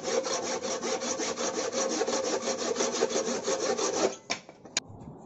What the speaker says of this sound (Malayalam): ചെടിച്ചട്ടി ഉണ്ടാക്കാൻ ആദ്യമായി ചെയ്യേണ്ടത് മരം മുറിക്കലാണ്.